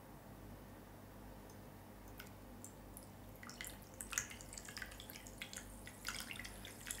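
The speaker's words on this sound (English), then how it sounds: "And then we're just gonna pour that over." Carbonated ginger and turmeric soda is poured over, with quiet gurgling and a scatter of small fizzing drips and pops that grow busier as the glass fills.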